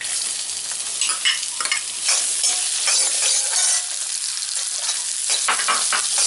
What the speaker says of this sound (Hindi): अब मैं इसमें बारीक कटा हुआ प्याज डालूंगी।